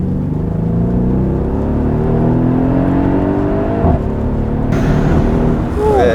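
Mercedes E63 AMG engine drones and revs up close with a sustained roar from inside the car, shifting pitch as it accelerates, while people talk over it.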